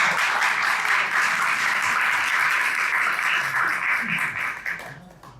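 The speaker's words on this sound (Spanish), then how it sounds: "recibamos con un fuerte aplauso" Loud, sustained audience applause at a talk on labor conciliation, a dense roar of clapping from the crowd that carries on steadily and then fades away toward the end.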